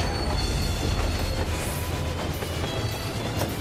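Phantom Train boss in the Final Fantasy XIV game gives off loud, continuous train sounds: a dense rumble of rolling wheels with rhythmic clacking and a rising metallic squeal, with no talk.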